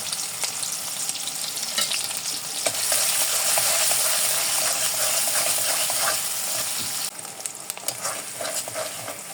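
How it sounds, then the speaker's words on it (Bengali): Onion and green chillies frying in oil after browned garlic for a pasta-noodle mix, a dense continuous sizzle with stirring scrapes, close and loud, briefly dipping late before resuming. "এই পেঁয়াজটা একটু ভেজে নেব।"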